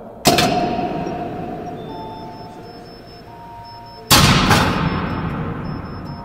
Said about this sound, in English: The mechanical clunking noise you hear is the sound of the control rods being removed out of the reactor core.